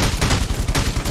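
Rapid gunfire from a gun in the game ROS, a dense burst of repeated shots in quick succession, loud and close.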